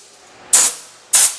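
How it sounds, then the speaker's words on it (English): Two sharp bursts of compressed air from an air blower sprayed into the louvers of a welder, each a loud broadband hiss lasting about a sixth of a second, spaced roughly half a second apart against a quiet background. "it's called an air blower, and air's pretty free, kinda."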